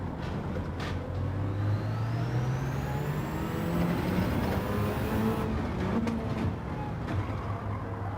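Race car engine in the World Touring Car 900 video game at the Nürburgring GP circuit, a loud continuous drone that drops pitch while downshifting into a corner, then climbs again as it accelerates, with no speech.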